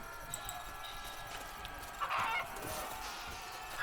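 A chicken clucks in a video game, with short fowl calls rising over quiet game ambience and a brief louder burst midway.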